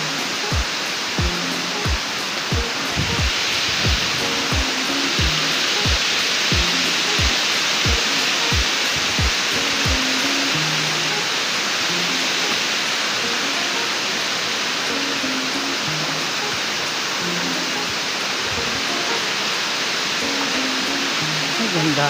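Aruyan Falls at Penal Farm in Sablayan, Occidental Mindoro, fills the air with a constant loud rushing roar of falling water, and a voice speaks over it early on.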